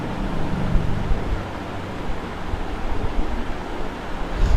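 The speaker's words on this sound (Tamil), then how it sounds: "இந்த தேனில் வந்து நம்ம எடுத்து வச்சுருக்க தண்ணியை இப்போ கலந்துக்க வேண்டியது தான்." Water is poured and stirred into honey, making a continuous close rushing, splashing wash that stays fairly loud throughout, with no speech over it.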